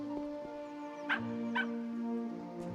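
A dog in the video game Luma Island gives two short barks or yips over steady tonal game music, fairly quiet and close.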